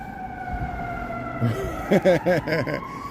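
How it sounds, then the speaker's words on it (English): A siren wails steadily in the distance on busy Wells Street in Chicago while someone talks nearby in short bursts. "You hear those sirens?"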